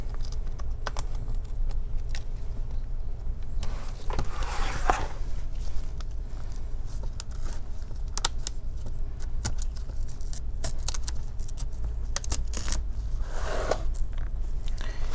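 Metal pry tool working around the adhesive-held screen bezel of an HP gaming laptop, close faint scraping and ticking clicks with a couple of brief louder scrapes over a steady low hum.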